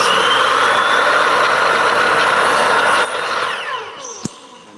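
A power saw runs loud and steady for about three seconds, its blade cutting through the workpiece. The whine then drops off as the blade spins down, and a sharp click comes near the end.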